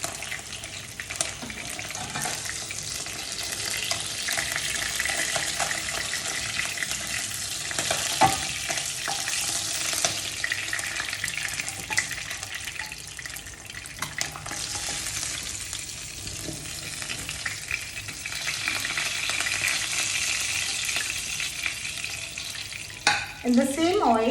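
Koi fish frying in oil for a Bengali tel koi dish, a loud, steady close-up sizzle and hiss with occasional spatters, lasting throughout with no speech.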